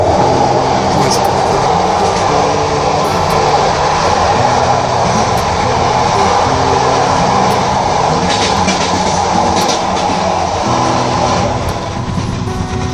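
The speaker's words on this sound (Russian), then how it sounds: "Поезд." Train wheels clatter and rumble as heard from inside a passenger train heading south, producing a loud, unbroken roar of rail noise that runs for the whole stretch.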